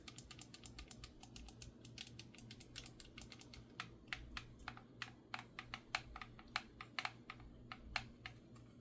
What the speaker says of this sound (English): let's listen for these buttons